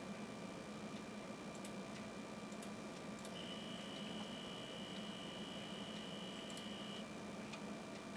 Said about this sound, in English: I'm going to go ahead and insert a zip cartridge, and I'm going to format this real quick